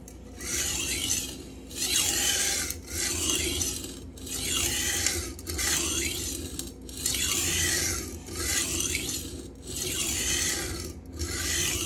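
A S35VN steel knife blade grinds across an Atoma 140 diamond plate in steady, repeated rasping strokes, about eight passes with brief pauses between them, close and even in loudness with no talk.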